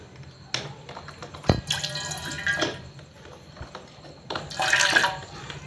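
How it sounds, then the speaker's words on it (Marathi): Water from a container poured into a pot to make tea with sugar, a few short splashing pours with brief drips and trickles between them, close and moderately loud. "थोडंसं पाणी टाकून देऊ"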